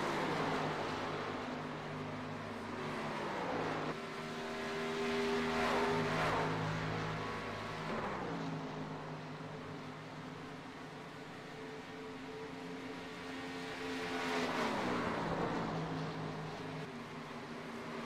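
Several race cars circling a track at a National Speed Association night event, engines droning loudly and then sweeping past in rising and falling passes, with a steady roar of other cars behind.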